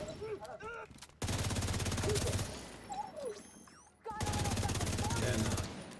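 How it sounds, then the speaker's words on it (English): Enemy gunfire in The Division 2 during Battle for Brooklyn at DUMBO Skate Park comes in two sustained automatic bursts, loud and rapid, broken by a short lull with scattered in-game sounds. "We'll run by some enemies and they start shooting us"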